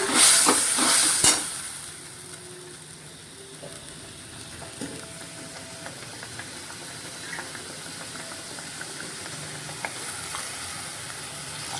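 Mustard masala for sorshe ilish, a hilsa fish curry, is sautéed in a pan, opening with a loud burst of hissing sizzle that settles into a quieter steady fry with scattered light scrapes.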